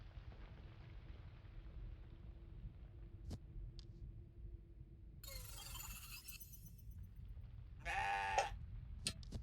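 A goat bleats in the video game CrossCode, two short wavering calls standing out against a quiet low rumble of ambient background, with a few sharp clicks between them.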